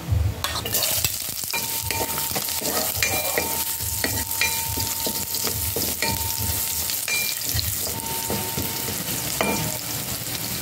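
Chopped ginger and pork liempo sizzle and fry in a pan for pinakbet, a steady close crackle broken by repeated scraping stirs of a utensil against the pan.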